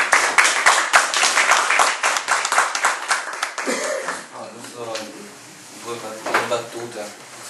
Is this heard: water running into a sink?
no